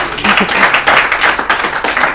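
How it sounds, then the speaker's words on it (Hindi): Audience applause at an Urdu-language literary quiz programme, a dense burst of many hands clapping, loud and close for the whole stretch, with pulses as the clapping swells and eases. "ताली बजाइए हमारे लिए।"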